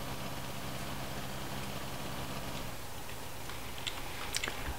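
T-25 and T-30 tractor engines idling in the game Farming Simulator 19, a steady low rumble with a faint rhythmic chug that fades after a few seconds under broadband noise, with a few light clicks near the end.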